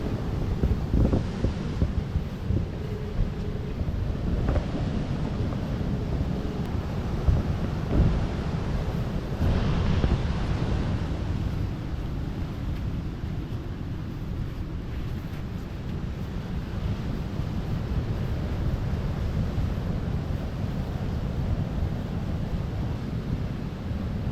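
Sea waves roll onto a shore where erosion is breaking apart a coastal house, heard as a steady, broad wash of surf with wind noise, close and continuous without a break.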